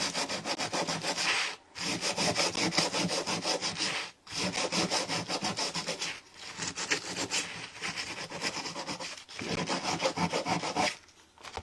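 Repeated back-and-forth rasping of sandpaper on a wooden thrift-store piece painted with milk paint, long steady strokes, pausing briefly four times, close and fairly loud.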